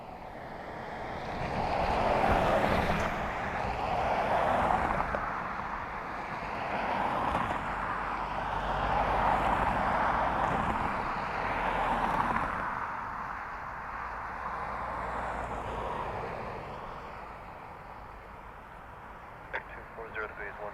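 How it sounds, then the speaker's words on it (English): Aer Lingus Airbus A330 arriving at Dublin Airport on its flight in from Seattle: a steady, broad jet roar with wind noise that holds for about twenty seconds, then eases slightly, with voices in the background. "This is EI52, Aer Lingus A330 EI Duo coming in from Seattle."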